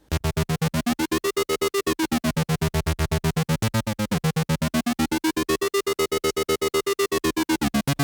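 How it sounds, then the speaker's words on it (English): A buzzy oscillator sync synth sequence of fast, evenly pulsed notes, its bright harmonics sweeping up and down as automated volume chops it into a steady tremolo. "I'm going to take this oscillator sync patch and automate the master volume up and down for a tremolo effect."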